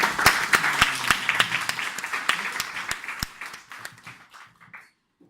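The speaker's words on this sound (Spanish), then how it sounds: "Así que les pido que le den un aplauso, que den una bienvenida a ella." Audience applause at a lecture on urban innovation, a dense burst of clapping that starts loud and gradually thins out and fades to silence over about five seconds.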